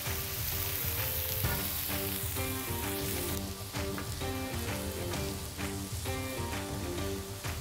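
Chicken pieces sizzle and fry steadily on a hibachi grill, a loud continuous crackle with faint stirring and scraping, no voices.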